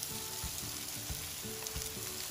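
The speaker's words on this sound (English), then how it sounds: "So just flip it over. Yay, grilled onion." Onions sizzle on a grill with a steady close frying hiss, joined by a few soft knocks and scrapes as they are flipped. No one talks.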